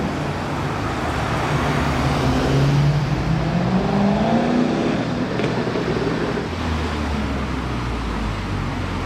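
An Alpine sports car on a Monaco street accelerates, its engine note rising and swelling over steady traffic rumble before easing back, heard from nearby without talk.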